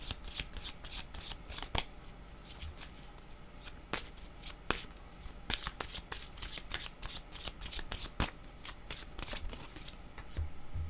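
A deck of cards is shuffled close up during a card reading, giving quick rhythmic riffles and flicks that run steadily throughout.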